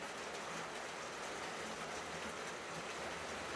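Steady rain falls outdoors, a continuous broadband hiss of drops with no voices, fairly even and moderately close throughout.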